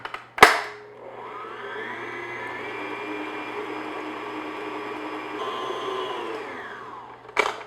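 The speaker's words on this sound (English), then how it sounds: "So now I'm just going to beat that until it's all mixed together." An electric mixer beats shortbread batter on medium-low speed, a steady close whirring drone lasting several seconds, bracketed by sharp clicks as it switches on and off, with no talking.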